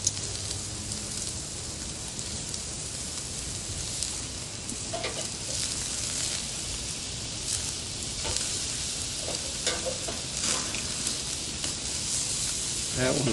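Steak sears in a hot pan with a steady, loud sizzle and crackle throughout, broken by occasional clatters of the pan or utensil, with no talk.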